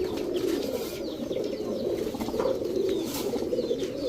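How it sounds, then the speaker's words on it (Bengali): A female red Musaldom pigeon coos among a crowded loft of highflyer pigeons, a steady, dense, low murmuring of overlapping coos with no pauses. "লাল মুসালদম একটা মাদি কবুতর"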